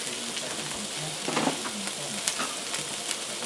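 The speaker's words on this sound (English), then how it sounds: "On these last 2, I'm going to sear them up and cook them quick." Steaks coated in a chili coffee rub sear in a hot pan, giving a steady, soft sizzle and crackle with a few sharper pops, close and fairly quiet.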